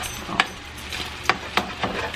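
Food fries in butter in a pan, a soft steady sizzle broken by a few sharp scraping clicks of a utensil against the pan, close and without talk.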